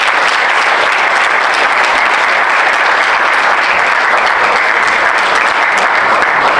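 A large audience gives loud, sustained applause for poet Miloš Kecojević at a gusle music evening held for the municipality's day and patron saint feast in Pale.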